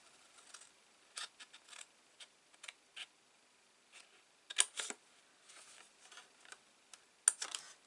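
Scissors cut a note card down to its score line, giving faint, scattered snips and paper rustles in a quiet room, with a couple of slightly sharper cuts.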